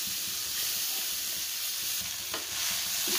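Washed poha hitting a hot pan in a home kitchen: a steady broadband frying hiss with faint scraping of a spoon stirring through it, close and continuous, with a brief brighter clatter near the end.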